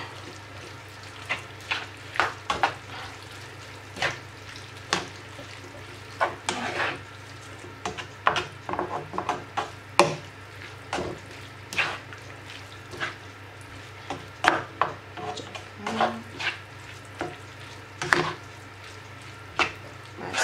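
A spoon stirs ketchup into a thick lasagne sauce in a pan, giving repeated soft scraping and squelching strokes at an irregular rhythm, close and fairly quiet, with no talk.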